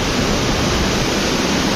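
Icy snowmelt water rushes steadily in a cold mountain stream near Naran, Kaghan and Babusar Top, a loud, dense, unbroken roar close to the water with no voices.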